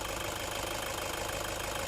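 A 2006 Toyota Commuter van engine idles steadily, a constant low rumble with a faint rhythmic knock running through it, close by and unchanging.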